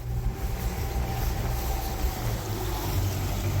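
Steady motorboat engine drone with churning water and wind, loud and continuous throughout, no talk.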